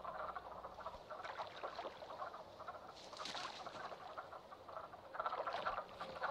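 A chorus of frogs croaking together at a spring breeding gathering in Shenandoah, dense overlapping calls at a moderate distance, fairly faint and continuous, swelling in a few louder bursts.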